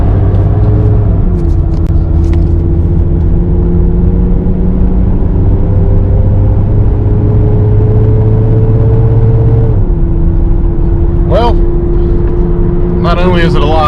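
A Chevrolet S10 pickup with a 2.2 engine, freshly back together after a cylinder head rebuild, runs and drives with a steady, smooth hum and low rumble, pitch shifting slightly as it changes speed, heard from inside.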